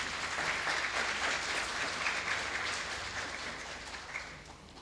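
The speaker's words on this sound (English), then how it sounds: "may we please give him another loud round of applause" Sustained applause from a convention audience at the Actuarial Society of Zimbabwe annual convention, a full crowd clapping loudly for a presenter, then slowly tapering off.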